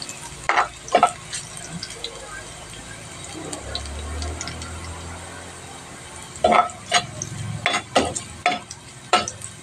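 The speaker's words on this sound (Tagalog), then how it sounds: "kawali at mantika. Lagyan na natin itong bawang. Kulay lang natin ng konti." Garlic sautéing in oil in a pan, with a soft sizzle under intermittent clatter of a utensil against the pan and a few brief sharp knocks.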